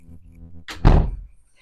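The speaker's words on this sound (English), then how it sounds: "sorry, I have to close the door." A door swung shut indoors in a home shared with roommates, a single solid thunk with a brief rattle after a faint low hum, close by and alone.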